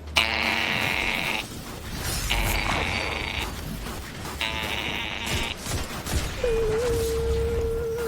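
A voice imitates an emergency alert tone in three sustained, buzzy bursts of about a second each, separated by short gaps, with a lower steady tone entering near the end over a background hum.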